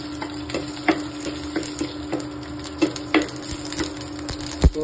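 Dried red chillies, broken into pieces, frying in a pan for Andhra-style mango dal, giving a soft steady sizzle with occasional light clicks and stirring taps, close up and without talk.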